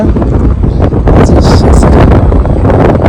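Wind buffets the microphone nonstop while riding through a large village, a loud, close, rumbling roar that holds steady for a few seconds with no voices.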